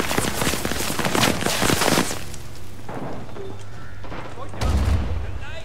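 In the Vietnam War shooter Rising Storm 2: Vietnam, a grenade explosion sounds amid heavy bursts of gunfire, loud and dense at first, then scattered shots and a second deep boom. Someone talks over the noise.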